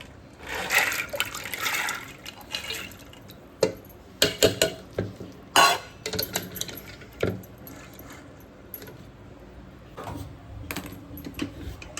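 Green chickpeas being washed by hand in water, giving irregular splashing, sloshing and clattering bursts with short pauses, close by and fairly quiet.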